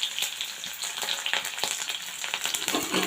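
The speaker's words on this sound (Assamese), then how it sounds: "এতিয়া তেল গৰম হৈ গ'ল এয়া পিঁয়াজ দি দিছোঁ" Chopped onions hit hot oil in a wok for a pork dish, giving a steady, close, crackling sizzle with sharp pops that runs loud throughout.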